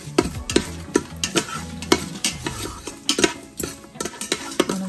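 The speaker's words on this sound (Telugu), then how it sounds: "ఒకసారి దీన్ని దోరగా వేయించుకుందాం." Cashew nuts frying in a pan while being stirred, with repeated scraping and clinking of a utensil against the metal over a soft background sizzle, close and fairly loud, no talking.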